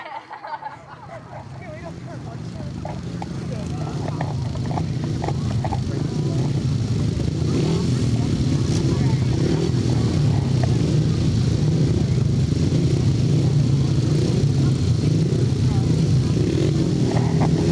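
500cc sidecar racing motorcycles at a British Championships race meeting roar steadily as engines build and hold a loud, continuous drone, with crowd babble mixed underneath.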